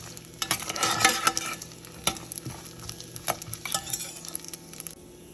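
Turmeric and spices roast in a tempering pan, with a soft sizzle under repeated close scrapes and clinks of a spoon stirring irregularly against the pan.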